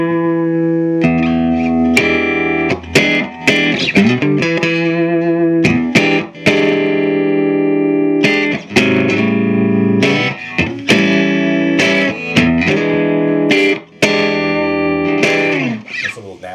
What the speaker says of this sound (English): Okay, so I'm going to go to a middle pickup.